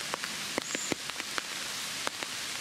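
Scattered raindrops drip through the canopy of an oak tree during a thunderstorm, sparse distinct taps over a steady soft hiss of rain, nearby and fairly quiet.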